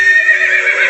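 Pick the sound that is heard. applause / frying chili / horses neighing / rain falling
horses neighing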